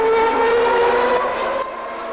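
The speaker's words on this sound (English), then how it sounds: "And there is Alain Prost, as an engine goes past, is sounding very rough indeed" A Formula 1 car from 1990 at Monza roars past sounding rough, a loud tonal engine note that slowly drops in pitch and fades as it moves away, with no voices.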